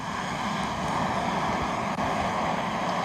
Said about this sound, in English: I'm trying to see if I can get this plane in the shot.